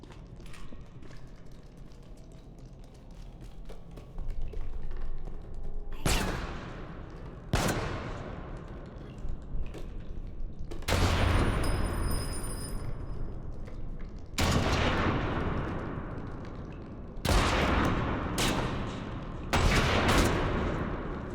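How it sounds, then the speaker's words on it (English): Pistol gunfire in the horror video game REANIMAL: about six sharp, loud shots spaced a few seconds apart, each with a short ringing tail, over a low ambient game background. "I'm gonna grab the pistol."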